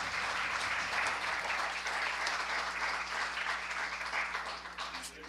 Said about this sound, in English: We want to thank with a round of applause.